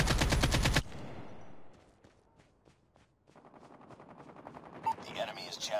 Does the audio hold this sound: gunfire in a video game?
yes